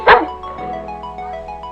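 A toy dog in a Playmobil living-room scene gives a single short, loud bark near the start, then only a low, quiet room tone remains.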